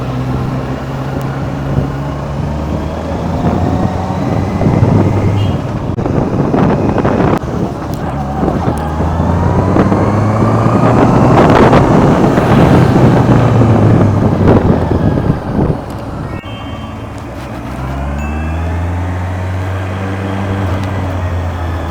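A new 2025 Honda CB650R motorcycle is ridden at night. The engine note rises and falls as it accelerates and shifts, and heavy wind buffeting at times masks the bike. There is no talking.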